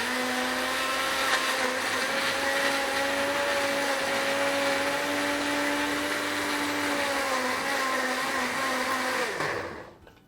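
A food processor purees a shami kebab mixture, its motor whirring loudly and steadily for about nine seconds before winding down and stopping.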